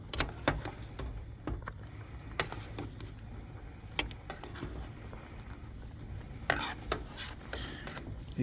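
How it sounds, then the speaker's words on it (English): Food being stirred in a pan over a single curbside burner: a steady low sizzle with scattered sharp scrapes and clicks of the utensil, fairly quiet and close, with no voices. "Let's stir them up a little bit."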